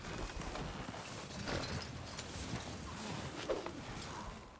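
Horse hooves clip-clop steadily in Red Dead Redemption 2 online, set against a dense, faint backdrop of game ambience, with a soft whinny-like sound near the end and no one talking.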